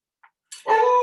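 A neighbour's dog in an apartment next door lets out a short whimper and then a sharp, rising bark-whine, close and fairly loud, with no talking.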